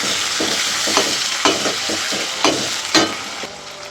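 Onions, curry leaves and green chillies frying in oil while being stirred, a bright steady sizzle broken by several sharp scrapes of a spoon against the pan.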